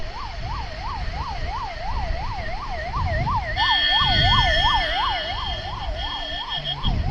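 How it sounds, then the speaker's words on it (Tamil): Ambulance siren wails in fast regular up-and-down cycles on a busy road, growing louder as it draws near with traffic rumble beneath, then a second siren tone joins briefly. "ஆம்புலன்ஸ் வந்து வழி விட்ருவோம்."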